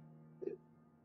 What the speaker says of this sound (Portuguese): Soluçando.